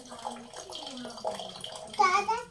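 Water running from a tap at home, a steady splashing stream heard close by beneath children's excited chatter, swelling louder toward the end.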